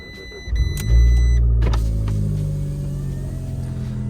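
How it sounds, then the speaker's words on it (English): An Abarth 500 with a 1.4-liter turbo engine cranks briefly and fires up in sport mode, then settles into a deep, steady idle rumble, heard close and alone. "Time for a startup sequence."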